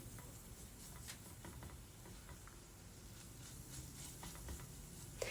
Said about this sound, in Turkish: Unla birlikte şöyle 1-2 dakika kavuruyorum